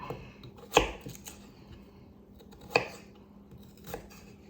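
A knife chops down onto a cutting board three times, spaced a couple of seconds apart, with soft kitchen scraping in between.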